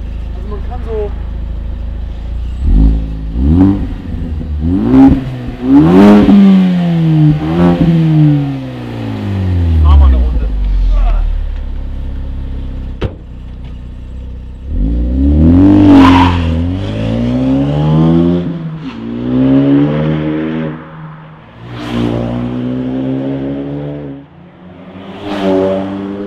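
Ford Focus ST with tuned software and an aftermarket exhaust with carbon tailpipes, its engine revving and rising in pitch through repeated pulls, loud and close, with people talking over it.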